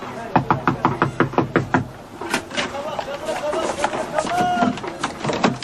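Sharp knocks rap on the door of an apartment: two quick bursts of several raps, then talk follows with a few further taps under the voices.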